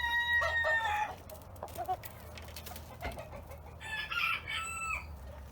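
A rooster crows loudly and close by inside a chicken coop, with a second drawn-out crow following a few seconds later and soft clucking from hens between the calls.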